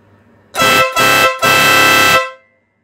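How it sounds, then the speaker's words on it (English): A Stebel Nautilus air horn sounds three loud, close blasts: a short one, a second short one, then a longer sustained blast, each a piercing, harmonically rich tone that stops abruptly. "this is the Stebel Nautilus horn"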